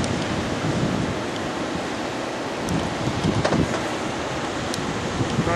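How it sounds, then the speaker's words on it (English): Steady roaring ocean surf on Tybee Island beach washes in continuously, mixed with gusty wind rumble on the microphone. "Those waves are coming in pretty dang good."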